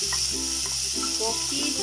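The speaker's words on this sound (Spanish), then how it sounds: "Vamos a agregarla para freírla un" Chopped onion (cebolla cabezona) frying in a pan with oil, giving a steady close sizzle with faint stirring and some background hum.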